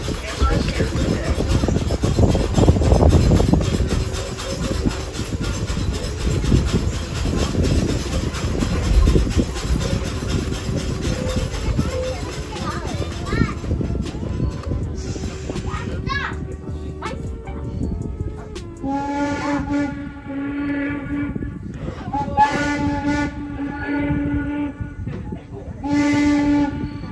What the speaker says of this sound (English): we'll get a chance to hear the famous ghost whistle, engine number 6